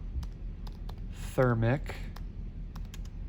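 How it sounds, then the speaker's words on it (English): Close, light clicking of computer keys, scattered and irregular, runs under a brief burst of speech in the middle. "I can type in exothermic"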